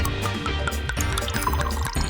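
Water pours steadily to fill a bath in a cartoon video game, a continuous splashing gush with dribbling, bubbly texture throughout, close and moderately loud with no voices.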